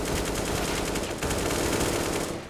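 Rapid, dense bursts of AK rifle fire from Counter-Strike on the Cache map, loud and sustained with a brief pause midway before the firing resumes and then tails off.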